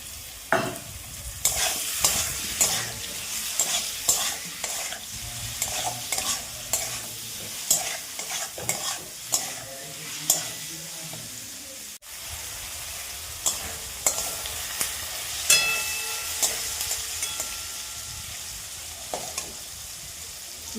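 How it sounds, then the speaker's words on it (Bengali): Turmeric-coated chicken and potatoes frying together in a pan, a loud close sizzle with continual scraping and stirring strokes throughout. "চিকেনটাকে আলুর সঙ্গে ভেজে নেব।"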